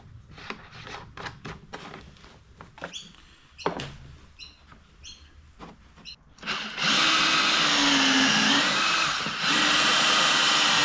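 Cordless power drill driving a couple of screws into a DIY battery box part for a Minn Kota Riptide Instinct trolling motor, heard as several short whirring bursts, then a long steady loud run.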